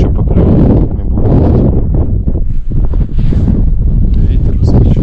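Strong wind gusting across a frozen lake during ice fishing for crucian carp, a loud continuous roar buffeting the microphone throughout, with a few faint scrapes and movements underneath.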